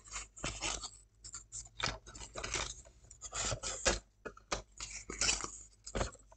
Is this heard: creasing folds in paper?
yes